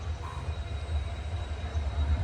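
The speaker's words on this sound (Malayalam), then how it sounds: "ട്രെയിൻ ഇപ്പോൾ വീർഭദ്ര എന്ന് പറഞ്ഞിട്ടൊരു റെയിൽവേ സ്റ്റേഷനിലേക്ക് എത്തിയിരിക്കുകയാണ്" A train pulls into Virbhadra railway station on the Rishikesh–Haridwar line, a low, steady rumble of rolling wheels and a humming engine heard from inside a coach, moderately loud and continuous.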